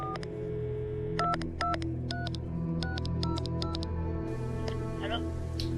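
A telephone is dialed with a string of short, evenly spaced touch-tone beeps over a constant low hum, close and clear, with a brief higher tone near the end.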